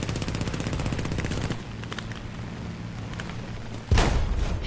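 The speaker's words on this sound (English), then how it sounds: "You got multiple fighters shooting at you." Fighter plane machine guns rattling in War Thunder, rapid continuous bursts up close, easing into a rumbling engine drone before a sudden loud impact near the end.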